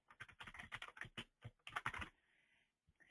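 Quick bursts of typing on a computer keyboard while entering a name in a web form, crisp close keystrokes in clusters, then a brief soft tail and silence.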